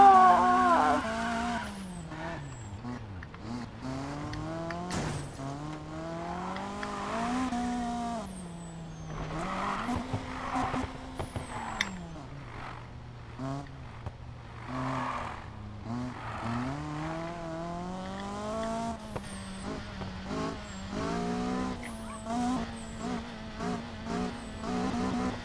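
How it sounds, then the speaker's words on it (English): Race car engine in the Need for Speed video game, a steady loud drone whose pitch climbs and drops repeatedly through shifts over about 25 seconds, with occasional tire squeals. "Engine sounds so nice."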